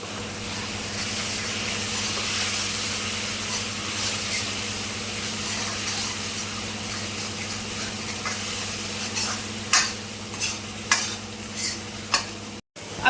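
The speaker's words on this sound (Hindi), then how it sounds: "अब ये मसाला अच्छे से भुन जाएगा" Masala spices for chole sizzle and fry in a hot pan, a continuous loud hiss with a low hum, then several distinct scraping stirs near the end.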